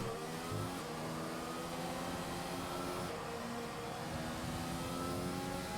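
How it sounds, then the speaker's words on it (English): An F1 car in the racing game F1 2020 hits a rev glitch, its engine holding a dense, continuous high whine with layered harmonics that rise slowly and steadily, loud and alone throughout. "I love the rev glitch."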